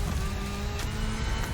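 A Bugatti Centodieci hypercar engine roars steadily at high revs in the racing game The Crew Motorfest, a loud continuous drone with faint tire noise.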